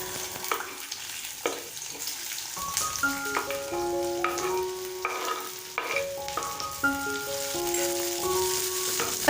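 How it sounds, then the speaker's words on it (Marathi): Chopped ivy gourd (tondli) sautés in hot oil with a steady sizzle, broken by repeated scraping stirs of a spatula against the pan, close and fairly loud throughout. "आता ही चिरलेली तोंडली तेलामध्ये चांगली परतून घ्यायची आहेत"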